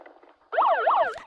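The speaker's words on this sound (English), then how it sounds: "That was the start of our start siren, which sounds like a police car chasing you." A dragon boat race start siren blares suddenly after a brief lull, loud and close, with a police-style warbling tone sweeping up and down twice before a clatter at the end.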